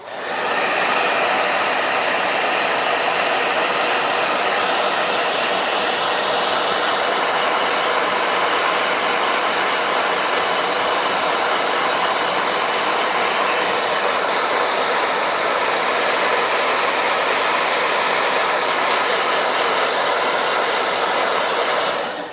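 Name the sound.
blow dryer drying paint on a journal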